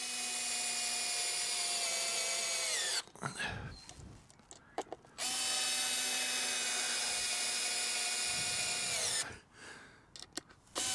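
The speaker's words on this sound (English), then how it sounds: "and then just drill those in." A power drill driving screws into pallet wood whirs loudly in long steady runs that wind down, with the clatter and knocks of handling between the two runs.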